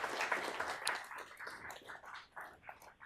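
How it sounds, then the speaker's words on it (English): A round of clapping at a board meeting welcomes August recruits and promotees: a few seconds of dense, moderately loud applause from a small group that thins and fades toward the end. "We give them a round of applause"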